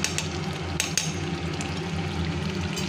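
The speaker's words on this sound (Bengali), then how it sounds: "এবার ভালো করে কষিয়ে নিতে হবে" Mutton curry sautés in a pan with a continuous close sizzle and wet frying, broken by a few sharp scraping clicks of a stirring utensil, with no voices.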